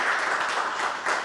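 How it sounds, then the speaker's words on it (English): An audience at a business and investment townhall on Kenya's economy gives a round of applause, a dense steady wash of clapping lasting the whole moment with no voices over it. "let's give him one more round of applause"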